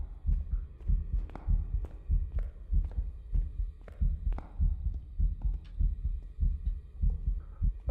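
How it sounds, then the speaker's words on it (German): Heartbeat in the Phasmophobia ghost-hunting horror game, a loud close thudding pulse beating in a steady, quick rhythm with regular double thumps throughout, with no talking over it. "Er hört meinen Herzschlag?"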